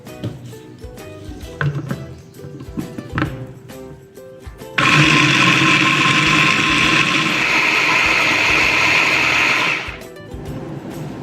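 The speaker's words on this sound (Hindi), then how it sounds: "इस तरह आपने स्लाइस लेके इनको चॉपर में कर लेना है।" An electric chopper whirs loudly and steadily for about five seconds, grinding bread slices into breadcrumbs, after a few softer clicks and bumps as the slices are loaded.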